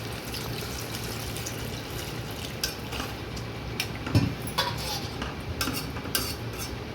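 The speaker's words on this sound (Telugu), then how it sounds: "ఇప్పుడైతే కర్రీలో సరిపడా వాటర్ అయితే వేసుకుందామండి." Water trickles into a pot of simmering chicken curry, with a few spoon clinks and scrapes against the pot over a low, steady kitchen hum.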